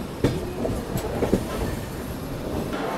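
The Humsafar Express at Rani Kamlapati railway station gives a steady rolling rumble, with a few sharp metallic clacks from the wheels in the first second and a half.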